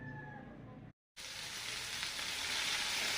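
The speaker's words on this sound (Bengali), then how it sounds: "বেতো শাকগুলো আমি একটু পানি দিয়ে শাকগুলো দিয়ে দিয়েছে কড়াইতে।" Jute leaf greens added with a little water to a hot wok give off a steady hissing sizzle, briefly cut by a gap and then returning louder and continuous.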